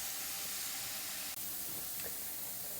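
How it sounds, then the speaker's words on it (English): Carrots sautéing in a pan on the stove give off a soft, steady sizzling hiss that stays even and fairly quiet from start to finish. "Our carrots have been sauteing for about 5 minutes"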